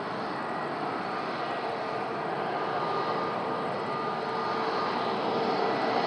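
An aircraft taxis at Madeira Island Airport on a windy day, its engines a loud, steady, broadband roar that holds unchanged throughout with no voices.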